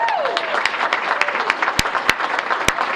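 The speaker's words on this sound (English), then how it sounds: "let's give a big round of applause" Applause at an awards dinner, moderate clapping from the tables with a few sharp, louder claps close by cutting through, while someone briefly speaks over the start.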